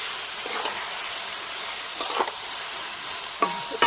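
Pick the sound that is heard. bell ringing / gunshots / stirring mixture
stirring mixture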